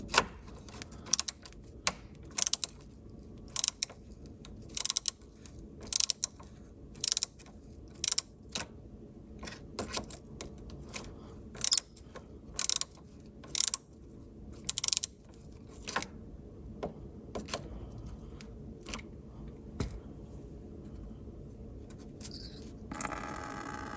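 A ratchet with a 13mm deep socket works bolts on a Volvo D5, giving a steady series of crisp, close clicks in short regular bursts with quiet pauses between them.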